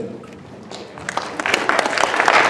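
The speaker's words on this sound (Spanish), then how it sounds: "Un fuerte aplauso para Elian, por favor." Audience applause for the speaker Elian at the end of a talk, starting faint and swelling within a second into dense, steady clapping that grows louder toward the end.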